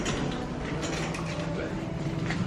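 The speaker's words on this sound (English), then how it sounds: "I love the elevator." Hotel elevator machinery at the Grand Floridian runs with a steady mechanical hum and faint creaking, heard up close inside the car as people talk over it.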